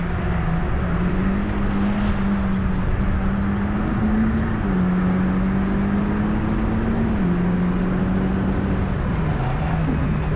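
Automatic Toyota Celica GT4 or Mitsubishi Lancer Evo 10 accelerating on a time-attack track, a loud continuous engine drone from inside the car whose pitch climbs and then drops at each gear shift.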